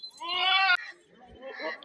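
Barbari and Teddy Gullabi goats on a farm bleat in a loud, wavering cry close by, with a second, softer bleat following after a brief pause.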